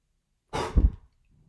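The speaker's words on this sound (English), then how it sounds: "breathing out as fast as you can" A quick breath in followed by a fast, forceful exhale, one short breathy burst with a deeper puff at its end, close and alone.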